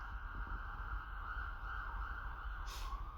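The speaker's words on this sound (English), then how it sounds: "And there goes the sirens." An emergency siren wails steadily at a distance, a sustained tone holding over low rumbling traffic noise.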